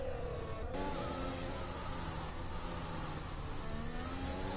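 A race car in a racing video game leaves the pit lane at a track in Azerbaijan on its outlap, its engine a steady, continuous whirring drone with rising revs that holds at constant loudness throughout.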